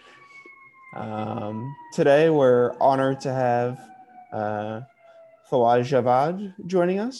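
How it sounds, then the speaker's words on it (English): An emergency vehicle siren wails faintly outside, a thin, steady, slowly falling tone that runs beneath someone speaking indoors throughout. "Apologies for the siren coming through."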